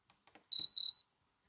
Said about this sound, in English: Well, that sounds more like a cricket.